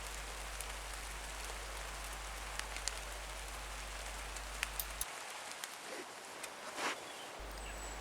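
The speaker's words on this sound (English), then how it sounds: "After the shower rain had stopped" A steady rain shower falls outdoors as a broad, constant hiss with a few scattered drop taps, fairly soft and even across the whole stretch, with no voices.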